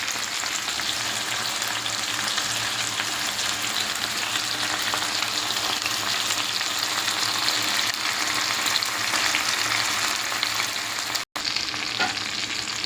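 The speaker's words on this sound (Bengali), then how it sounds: "দেখো বন্ধুরা, মাছ ফ্রাইটা হয়ে যাচ্ছে।" Fish frying in oil over a low flame, a steady dense crackle and hiss that holds loud and even throughout, with a brief dropout near the end and no voices.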